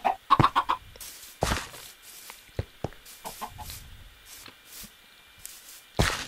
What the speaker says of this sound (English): I am sorry, little chicken. I didn't mean to egg you right when you were born.